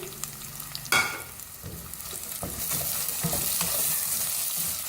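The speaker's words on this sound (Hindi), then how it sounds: "प्याज के साथ हल्का सा फ्राई करेंगे" Steady frying sizzle of onion with garlic-ginger paste and spices in a pan, with a stirring clatter near the start and the hiss growing louder and denser toward the end.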